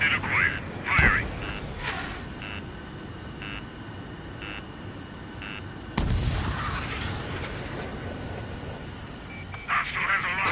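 Missile launches and explosions in a video game air combat sortie, sharp booming bursts at the start and one heavy blast midway over a steady engine drone, with beeping alert tones and radio voices talking.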